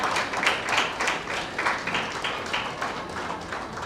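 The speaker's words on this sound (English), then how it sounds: "can we have a big round of applause for the panelists and the moderator?" A conference audience claps steadily and fairly densely for a panel and its moderator, a sustained wash of applause with no clear voices on top.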